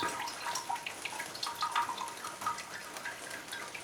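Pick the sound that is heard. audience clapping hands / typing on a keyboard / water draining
water draining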